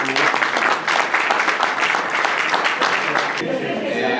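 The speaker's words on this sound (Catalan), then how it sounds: "si que voldria un aplaudiment per ells" Dense, steady applause from diners at the Club Ferroviari de Terrassa's 40th-anniversary fellowship lunch, many hands clapping close by for the whole stretch, with a few voices mixed in.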